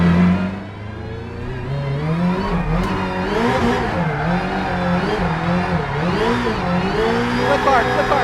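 The engine of a rally driver's 862bhp Subaru Huckster drones and revs in wavering pitch sweeps while drifting, held loud and close for the whole stretch, with a person talking over it.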